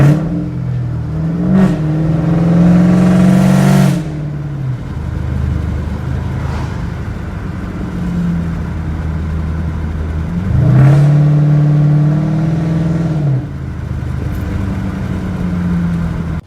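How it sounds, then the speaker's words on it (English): Car engine revving hard in a Fourth of July burnout, two long sustained roaring pushes with rising pitch separated by a lower idle, loud and close with no talk. "the not that good of burnout for 4th of July"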